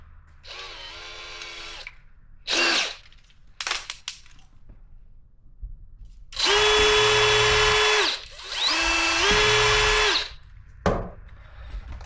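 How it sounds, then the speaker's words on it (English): An electric drill bores a hole, whirring loudly in several separate bursts of a few seconds each, close by with short pauses and clicks between them. "So, first hole is drilled."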